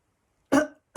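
A storyteller voices a single short, polite cough, close and clear against silence, with the start of another cough cut off right at the end.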